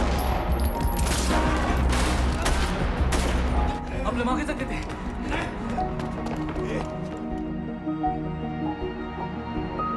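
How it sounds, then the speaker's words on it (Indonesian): Film scene of a terrorist attack in Mumbai, India, with bursts of rapid gunfire and loud shots crowding the first few seconds before fading into rumbling action noise and background sound. "Tanpa berlama-lama, mereka langsung menembak teroris itu."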